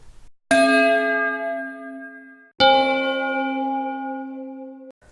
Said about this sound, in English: they ring the bell, which built with different metals